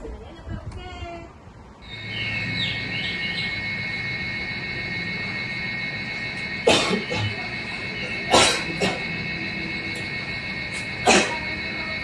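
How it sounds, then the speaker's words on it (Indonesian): A woman coughs three times in separate sharp bursts, near and fairly loud, over a constant tonal hum with a brief voice at the start. "Ini minum dulu. Dari tadi batuk mulu."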